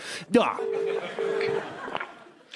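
Telephone dial tones in a comedy sketch, two steady beeps in a row followed by a click, with background chatter and a voice underneath.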